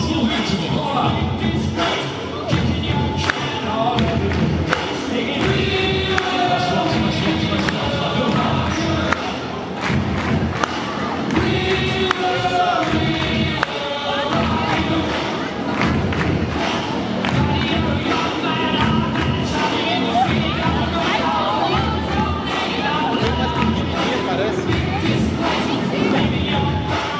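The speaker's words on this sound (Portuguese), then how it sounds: "Solta o som e a galera bate palmas no ritmo, bora!" A circus crowd claps in steady rhythm along with loud music before a six-motorcycle globe of death act, the beats dense and continuous with scattered cheers and thuds throughout.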